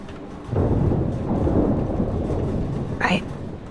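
A thunderstorm in the Life Is Strange video game brings a steady, loud rush of heavy rain, with a deep rumble of thunder rising over it and no speech.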